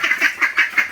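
Ducks quacking close by in a quick series of about six loud, nasal calls, one after another, with no speech.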